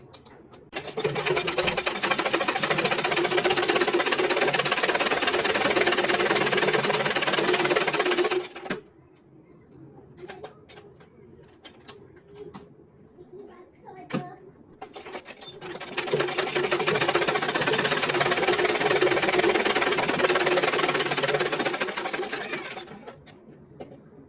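A sewing machine stitches blouse fabric in two long, loud, steady runs of rapid mechanical whirring, separated by a quieter stretch of fabric handling and small clicks.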